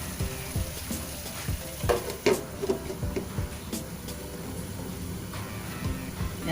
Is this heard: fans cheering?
no